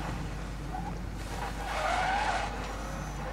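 Car tires squeal and skid over a constant engine hum in the video game Need for Speed Most Wanted, one long screech swelling in the middle, close and loud, no talking.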